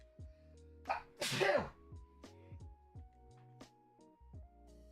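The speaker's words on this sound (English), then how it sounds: "That was a hell of a sneeze." A single loud human sneeze with a short sharp intake just before it, heard over soft, bleepy video game music.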